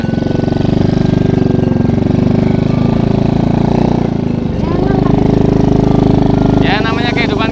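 Motorcycle engine idling and revving steadily up close on a village ride, a continuous low throbbing drone with a slight dip midway, as people talk over it.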